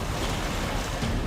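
Giant ocean waves pound in heavy surf, a dense, continuous roar of crashing water with wind rush and no clear breaks between the waves.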